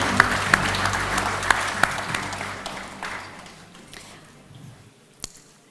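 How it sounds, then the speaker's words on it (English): Audience at a national SME awards ceremony applauds the winners, a dense burst of clapping that starts loud and gradually thins and fades, ending in a few scattered claps. "Another round of applause to our winners, House of Salt."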